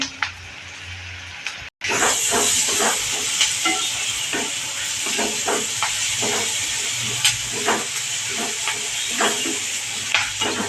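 Chopped onion and seven or eight crushed garlic cloves tempering in hot oil for a vegetable dish, a steady close hiss and sizzle with scattered crackling pops, briefly cut near the start.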